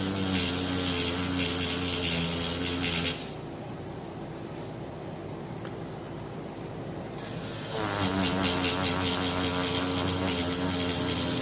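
A tattoo machine runs slowly during eagle realism tattoo work, giving a steady mechanical buzz with a tonal whine that drops away for a few seconds mid-clip, then resumes at the same level.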